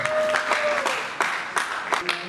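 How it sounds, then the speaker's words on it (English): An audience at a singles mingling event in Ghana claps, with uneven bursts of hand claps and crowd noise over a sustained tone, fairly close and loud, with faint voices mixed in. "let's give a hand of applause to all those who have"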